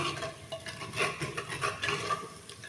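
Masala for a chicken aloo chaat roasts in a pan while being stirred, with rhythmic scraping and clinking of a spoon against the metal over a soft frying crackle, close and moderately loud.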